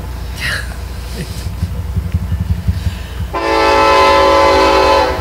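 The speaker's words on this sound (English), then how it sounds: "Train number 2." A train passes close by with a rhythmic clatter of wheels over rail joints, then a loud, sustained horn blast takes over for the last couple of seconds.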